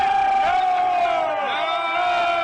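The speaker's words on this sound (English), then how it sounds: "The crowd's yelling no." A large outdoor crowd of protesters near the U.S. Capitol yells and shouts together in a loud, continuous roar of voices with sustained chant-like tones.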